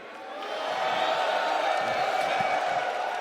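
Packed EVO crowd at a late-night Street Fighter event, a swelling roar of cheering and whooping that rises within the first half second and holds as a dense, loud wash of many voices.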